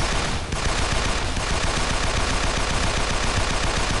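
SMG fire in the video game Assault Gunner rattles continuously and loudly, a dense, unbroken stream of rapid shots that fills the whole stretch with no pauses.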